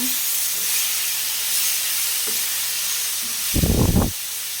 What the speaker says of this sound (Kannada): ಹೀರೆಕಾಯಿ ಕೂಡ ಆಲ್ಮೋಸ್ಟ್ ಯಾವ ಥರ ಫ್ರೈ ಆಗ್ತಾ ಇದೆ ಅಂತ